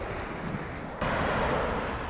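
Ocean surf rolls and breaks on a shore where sea shells are gathered, a continuous rushing wash with wind buffeting the microphone and a sudden swell in loudness midway.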